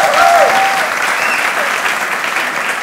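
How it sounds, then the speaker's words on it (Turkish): Loud, dense studio audience applause filling the space continuously, with a brief cheer near the start. "Bir alkışlar etsin."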